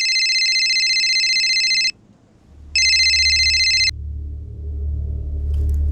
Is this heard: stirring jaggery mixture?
no